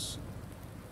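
Rain in the farming video game Farming Simulator 19 on the Medicine Creek map, a continuous low, steady wash of rainfall with a brief bright hiss at the start, no talking.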